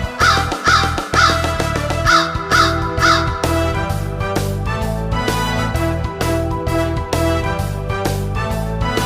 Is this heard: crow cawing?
yes